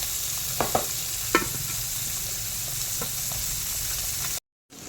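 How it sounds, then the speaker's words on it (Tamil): Fish curry stirred in a pot over a steady hissing simmer, with a few soft scraping and clinking strokes early on, fairly quiet throughout before cutting briefly to silence at the end. "மீன்லாம் அள்ளி போட்டாங்க. கிண்டி விட்டுலாம். கொஞ்சம் கொதிச்சு வரட்டுங்க."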